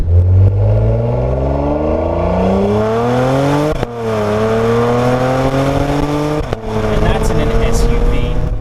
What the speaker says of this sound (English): if you let the revs build, you get those beautiful, beautiful pops